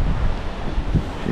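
Strong wind buffets a microphone outdoors near the east coast, making a continuous rough, gusty rumble with no voices.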